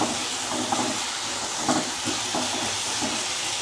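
Ginger garlic paste sizzles in a hot pan while a mutton chops masala is cooked, making a continuous loud hiss and crackle with small pops and no talking.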